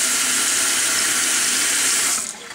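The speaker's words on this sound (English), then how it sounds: "Just let me rinse my hands real quick." Tap water runs steadily into a sink as hands are rinsed, a continuous close splashing hiss that cuts off near the end.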